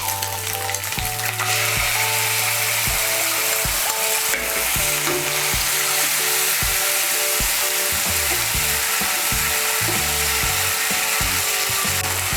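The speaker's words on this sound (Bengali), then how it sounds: "টমেটো বাটাটাকেও তেলের সঙ্গে মিশিয়ে নেব।" Tomato paste frying in hot oil in a pan, a loud steady sizzle running throughout with repeated scraping and stirring knocks of a utensil against the pan.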